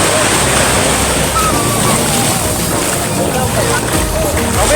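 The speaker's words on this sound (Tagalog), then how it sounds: "Lumalakas na yung alon." Sea surf rolling onto a beach at Lian, Batangas, a steady loud wash of breaking waves with wind buffeting the microphone, people talking faintly underneath.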